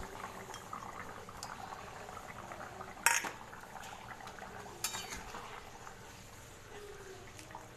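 A pot of thin Bengali fish curry simmers gently with soft bubbling, quiet and close, broken by two bright metallic clinks of a utensil against the pot.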